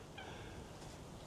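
Seabirds call in an autumn park, one short, faint squawking cry over a steady outdoor background hiss.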